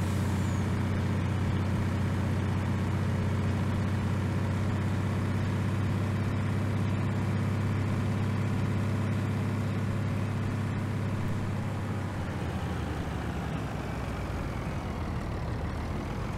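Heavy vehicle engine, apparently a truck, rumbling loud and close with a deep steady drone that shifts in pitch and character near the end as it pulls away, no talking.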